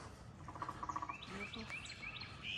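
Birds chirp and tweet faintly outdoors at Wakulla Springs, a string of short high calls over a soft, steady background hiss.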